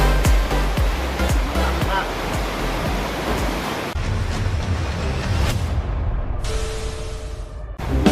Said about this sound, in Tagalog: Dito kami ngayon sa dagat.